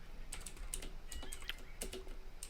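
Command typed on a computer keyboard, a quiet, close run of irregular key clicks and taps continuing throughout with no talking.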